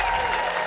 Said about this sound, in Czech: Prosím, potlesk pro Dianu